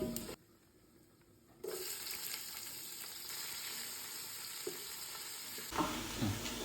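Onions and whole spices fry in oil for Bagara rice, stirred with a ladle: a continuous soft sizzle with occasional scraping clinks, briefly dropping quieter then resuming.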